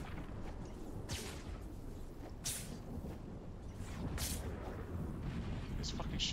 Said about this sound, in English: There's fucking shots up here.